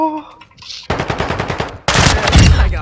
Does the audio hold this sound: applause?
no